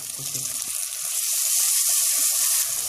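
Bottle gourd bhaji frying in a pan with nigella seeds, chopped tomato and coriander leaves, a brief close hissing sizzle that swells and holds steady, no talking.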